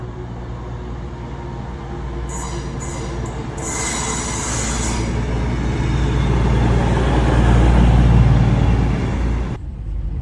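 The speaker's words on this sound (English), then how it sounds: "Oh, here's my train." A train arriving at a station in Snowdonia, Wales, rumbles in with a loud, steady low roar, brief high metallic squeals early on, building slightly before easing as it slows.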